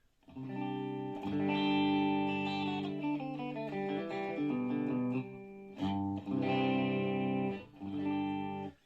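Electric guitar, a hollow-body partscaster, through an amp with only a compressor on, playing sustained chords and single notes that ring out clearly, with a few brief pauses between phrases.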